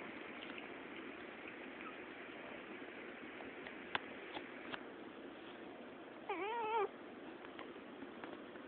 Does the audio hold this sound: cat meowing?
yes